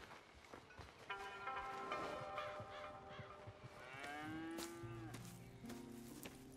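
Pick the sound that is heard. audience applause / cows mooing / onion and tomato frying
cows mooing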